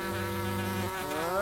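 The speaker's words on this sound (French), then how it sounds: "Non, ça, c'est une mouche." A housefly buzzes close by in an animated cartoon, a steady, droning whine that stays up front and shifts pitch slightly as it moves, with no voices over it.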